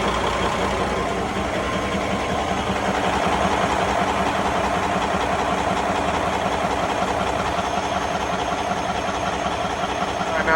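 A running engine with a fuel filter problem that keeps shutting down, heard as a steady, close, moderately loud rough idle with a faint rhythmic knock and no audible stop.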